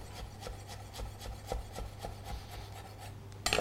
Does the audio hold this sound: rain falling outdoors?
no